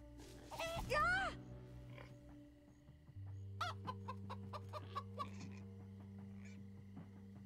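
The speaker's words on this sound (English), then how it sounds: "Stupid pigs." Pigs in the Minecraft: Story Mode video game grunt and oink in short bursts, mixed with clucking fowl, faint against a steady low hum of game ambience.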